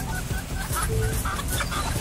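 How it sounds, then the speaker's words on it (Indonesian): Hens clucking in the audio game Constant Battle, several short, close, irregular clucks and squawks overlapping in a busy barnyard chatter. "Ini biasanya ada 3 ayam betina nih."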